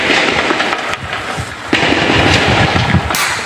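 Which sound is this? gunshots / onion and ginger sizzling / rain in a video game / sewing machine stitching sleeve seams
gunshots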